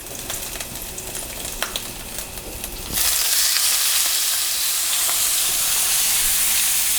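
A ribeye steak hits a hot pan with an Asian-style glaze, starting as a lighter background sizzle before jumping into a loud, steady, close hiss of searing fat that holds without letup, with no talking.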